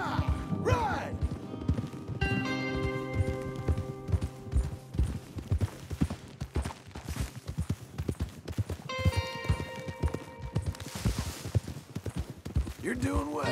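Horses galloping in the Red Dead Redemption 2 Western game, a fast continuous clip-clop of hooves under loud music and voices talking throughout.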